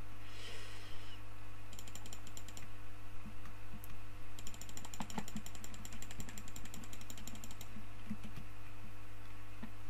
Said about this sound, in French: On entend un clavier, je sais pas si c'est normal.